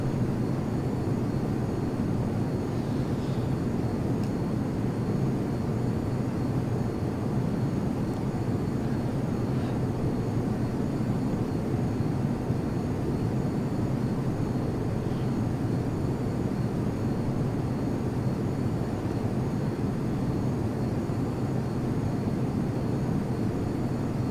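F-22 Raptor jet engine in the Prepar3D flight simulator, on a flight from Zurich toward Venice: a steady, even cockpit roar and rumble that holds constant throughout, with no talking.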